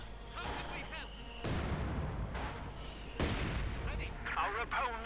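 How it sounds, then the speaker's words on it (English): Mortars fire again and again in a Company of Heroes 2 match, heavy thumps landing in bursts among the battle noise, with faint commentary running underneath. "You got the mortars constantly firing away"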